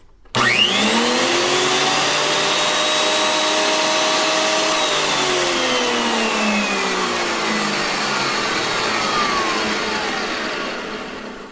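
A Ridgid TP1300 thickness planer starts abruptly and roars steadily as wood feeds through, with a whining pitch that drifts and slowly sags under load.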